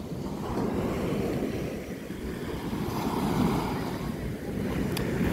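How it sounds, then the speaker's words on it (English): Surf rolling onto an ocean shore, a steady broadband wash with slow swells, roughened by wind buffeting the microphone throughout and no voices. "because I'm at the ocean"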